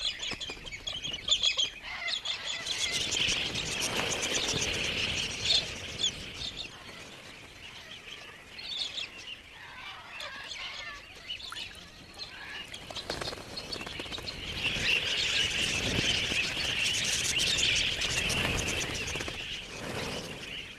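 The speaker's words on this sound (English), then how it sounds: "Galahs seem to have plenty of time for clowning around." A flock of galah parrots in the Australian outback screeches and chatters for the whole stretch. The harsh calls overlap, swelling and easing from near to farther away, with no talking.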